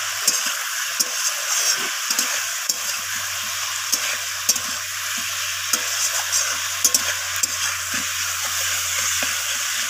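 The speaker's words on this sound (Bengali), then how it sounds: "তো এইভাবে আমি কিছুক্ষণ সব কিছু সবজিকে মশলার সাথে একটু ভালোভাবে কষিয়ে নেব" Vegetables such as broad beans, potato and cauliflower being sautéed with spices and green chillies in a pan, a steady loud sizzle with frequent scraping stirs of a spatula, plus a low constant hum behind it.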